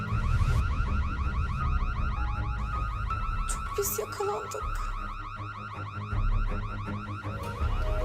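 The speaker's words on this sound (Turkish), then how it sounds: "Alarmı da siz mi çalıştırdınız yoksa?" A car alarm wails continuously in a repeating rising pattern, loud and steady, with a brief spoken line underneath.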